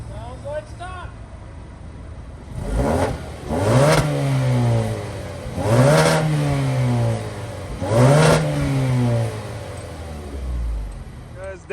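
A fourth-generation Mazda RX-7 turbo with the stock OEM muffler revs repeatedly, four rising and falling throttle blips over a steady idle, close and loud with no talking.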